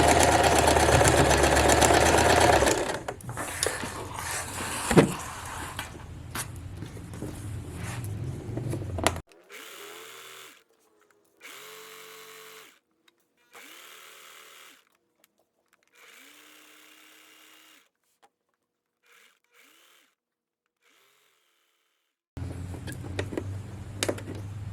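A sewing machine stitches the horsehair hem of a formal dress. The motor runs in a steady buzz at first, then breaks into short separate runs of stitching between quiet pauses, close by and on its own.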